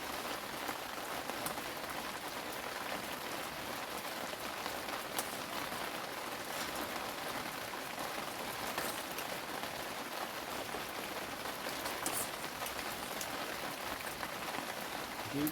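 Rain falling steadily outside a home, a dense even hiss of drops on surfaces that holds constant throughout with no voices.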